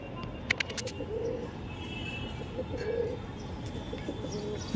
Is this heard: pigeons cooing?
yes